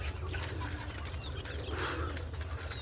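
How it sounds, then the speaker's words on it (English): Soft, low roller pigeon cooing repeats steadily, with faint wing flutters of young birds flying and distant outdoor ambience. "We're flying them young birds again."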